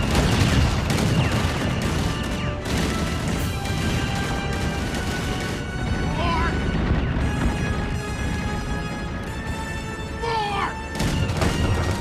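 Heavy gunfire and crashing explosions from a film scene roll on in loud, dense bursts, with a brief pause mid-way and shouted voices and screams mixed into the barrage.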